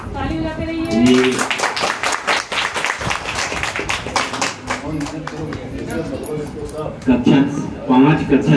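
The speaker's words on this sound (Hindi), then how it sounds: "ताली बजाते रहिए।" Audience clapping at a school prize distribution ceremony, a steady patter of many hands continuing while an announcer speaks over it through a sound system.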